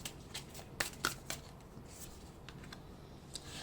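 Tarot cards are shuffled by hand for a card reading, a soft close riffling and flicking in a few quick bursts that taper into faint, sparse rustles.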